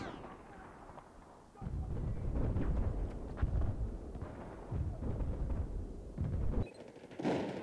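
Battlefield 4 gunfire on the Golmud Rush map, a rumble of distant bursts and heavy reports rolling through the battlefield in uneven waves, fairly loud and mixed with wind-like noise.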